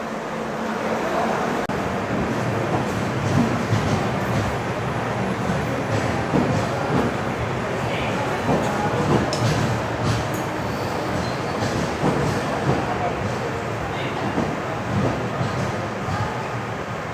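The 12612 Garib Rath express from Hazrat Nizamuddin pulls into a platform at Chennai Central railway station, giving a continuous loud rumble and rattle of rolling coaches that stays fairly steady throughout, with no talking.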